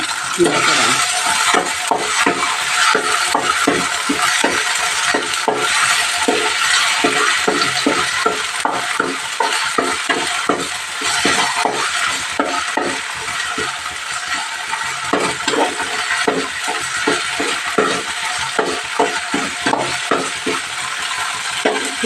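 Green chillies frying in a pan for mutton curry, heard as a steady sizzle under a busy, rhythmic run of spatula scrapes and clicks against the metal, close and fairly loud.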